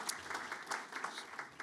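Audience applause at a Chamber of Commerce State of the City event, a fairly faint, steady patter of clapping lasting under two seconds with no voices over it.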